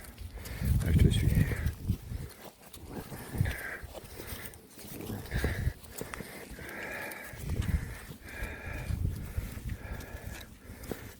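Horses move about in a meadow, with close snorts, sniffing and soft shuffling steps in uneven bursts, and a person talks quietly among them.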